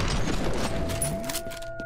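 A shotgun blast in F.E.A.R. opens a short burst of heavy, reverberant firing amid combat noise, the shots dense and close, with a falling whine trailing behind.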